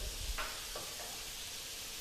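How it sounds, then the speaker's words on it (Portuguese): Butter and olive oil sizzle in a pan, a steady close hiss with a few brief crackles and spatters near the start and no voices. "Vou colocar a minha panela para chiar."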